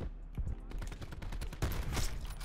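Rapid gunfire from the Koshka sniper rifle in a video game, a dense burst of overlapping loud shots and impacts running through the whole stretch.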